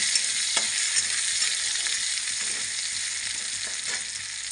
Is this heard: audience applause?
no